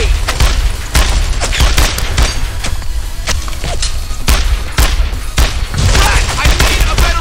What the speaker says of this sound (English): Jesus, they're shooting at me!